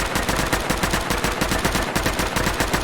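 Heavy machine gun fitted with a .308 receiver, modded into Fallout 4, fires a continuous fast burst of rapid, loud shots with an even rhythm and no talk.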